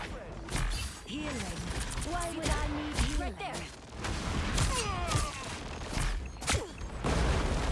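Rapid bursts of gunfire and ability effects from the video game Marvel Rivals crackle repeatedly through the match, mixed with game sounds under someone talking almost continuously.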